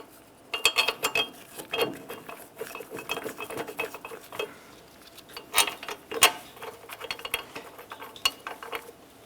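Metal bolts on a 2015-2020 Cadillac Escalade front axle being threaded in and snugged by hand, a string of small, close clinks and ratcheting ticks in irregular bursts with no talking.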